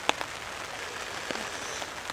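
Rain falling in woodland and dripping off a tarp, a soft steady hiss of drops with a few sharper close taps and patters, heard on its own without any voices.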